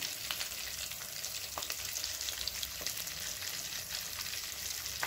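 A crispy potato nest deep-frying in hot oil on full flame, a dense, even bubbling sizzle held close and steady throughout, with a few faint crackles and no voices.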